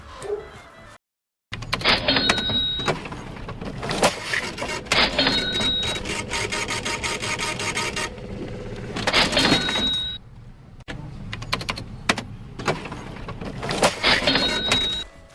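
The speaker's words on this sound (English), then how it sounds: "cash register noises." In the Valheim video game, musical instruments play a cash register sound effect: repeated mechanical ratcheting clatters and bright ding chimes recur in bursts, loud and near, separated by brief pauses.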